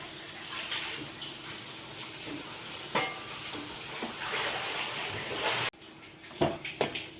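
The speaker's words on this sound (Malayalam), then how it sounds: "എല്ലാം മിക്സ് ആയിട്ട് നന്നായി ഇളക്കുക" Cooked horse gram stir-fry is stirred in a pan, giving soft scraping and clinks of a spoon against metal over a faint, low sizzle, with a few sharper knocks toward the end.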